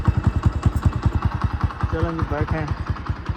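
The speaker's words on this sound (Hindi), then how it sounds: "मोटरसाइकिल निकाल लिया" A motorcycle engine idles close by with a rapid, even thumping beat, and a person speaks briefly over it.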